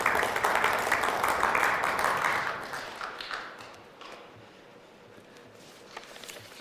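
Audience applause at a human microbiome industrialization forum, a dense burst of clapping welcoming a National Assembly member to the stage, strongest at first and tapering into quieter room noise.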